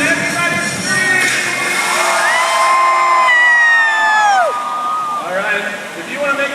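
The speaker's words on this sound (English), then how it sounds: "Everybody scream!" A crowd of children screams and cheers at a slide in a water park lagoon, a loud, sustained mass of whoops and shouts with rising and falling shrieks throughout.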